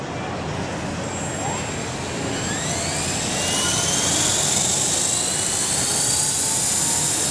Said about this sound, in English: Copter X in flight inside the mall.